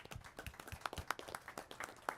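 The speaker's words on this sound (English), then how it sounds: "So let's give everyone a round of applause." Faint, scattered clapping from a small group at a city council strategic planning workshop, a brief patter of hands heard from a distance.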